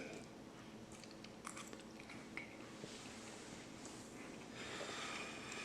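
Someone chews a bite of homemade pizza, giving soft, irregular crunchy bites and mouth noises close to the mic over a low room background, with a few light clicks and a faint clatter.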